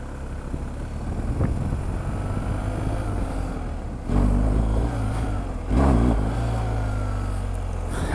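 A motorcycle engine drones at a distance in a parking lot during wheelie practice, rising in two sharp throttle bursts midway with a low rumble between.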